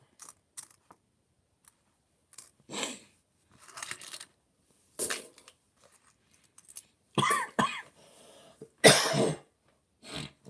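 A series of scattered coughs, some sharp and some hoarse, spaced irregularly across a quiet room, growing harsher and louder toward the end.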